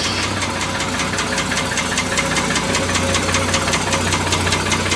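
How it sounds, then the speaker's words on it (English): Triumph TR6 roadster engine idling steadily nearby, a rapid even ticking knock over a low continuous hum, with no voices. "Happy to hear it running again."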